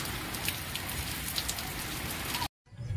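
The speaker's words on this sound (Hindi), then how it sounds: "देखिए फिर से कितना जोर बारिश गिरने लगी है" Heavy rain pours down at a home during a sudden storm, a dense, even hiss of drops drumming on surfaces that cuts off abruptly near the end.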